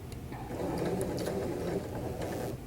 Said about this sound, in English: You're back stitching because you're sewing two pieces together.